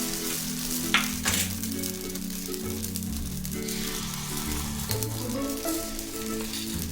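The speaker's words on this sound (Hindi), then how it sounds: "मैं इसे इस तरीके से थोड़ा थोड़ा बैटर अपने पात्र में डालूंगी।" Appe batter sizzles in an appe pan with a continuous, even frying hiss, a couple of brief crackling bursts early on, and a low steady hum underneath.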